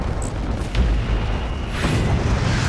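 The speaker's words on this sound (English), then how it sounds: "now I'm going to finish him with my mining lasers, along with the assistance of my plasma missiles" Mining lasers and plasma missiles fire from a ship in the space combat game Fractured Space, a dense, continuous rumble of booming blasts with sharp bursts and a crackling surge toward the end.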